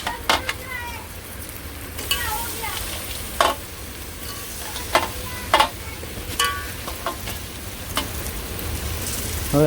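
Prawns frying in a pan with chilli give a steady, close sizzle while a spoon repeatedly scrapes and knocks against the pan as they are stirred.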